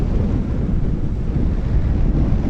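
Steady wind blowing by a lakeside at Bueng Kluea, a loud, continuous low rumble buffeting the microphone with no voices.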